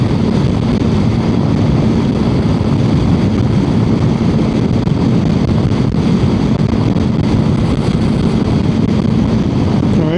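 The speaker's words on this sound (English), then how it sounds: "It's a little windy today." Wind rushes over the microphone in a continuous, loud, broadband roar that holds steady throughout, with no voices.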